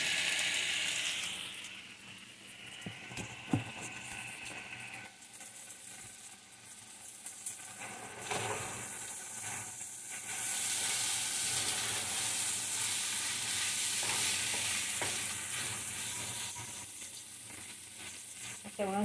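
Jalapeno, tomato, onions and turkey sizzle in a pan with already cooked potatoes, a steady crackling fry that swells louder midway, with occasional stirring scrapes and no talking.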